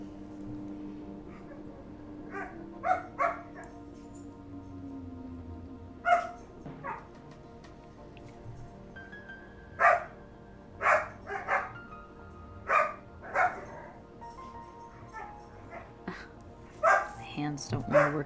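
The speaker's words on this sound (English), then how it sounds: "Are the dogs loud? Can you hear them?" Dogs bark in scattered bursts and clusters over background music, with a person talking between the barks.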